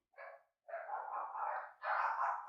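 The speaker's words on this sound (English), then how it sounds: "There's the dogs." Dogs let out a short yelp and then two longer, whining bark-like howls, fairly near and clear against an otherwise silent background.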